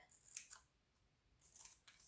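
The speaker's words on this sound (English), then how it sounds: "just cut out little triangles from across the widest part of the bottom" Scissors snip triangles from the bottom of a paper bag for an owl puppet, two quiet bursts of crisp cutting separated by a pause, close and alone.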